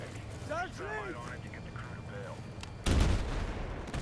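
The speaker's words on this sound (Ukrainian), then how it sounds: "артилерія по нам" Artillery fire in the Battlefield 6 battle royale video game: a loud, sudden blast rolls in near the end, following stretches of voices talking over the game.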